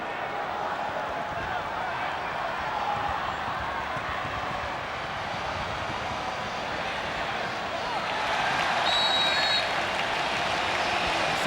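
A record-sized stadium crowd at the A-League Grand Final between Sydney FC and Central Coast Mariners roars and applauds in a steady, dense wash of noise that swells louder toward the end.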